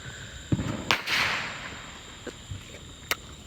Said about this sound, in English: It still catches the fireworks.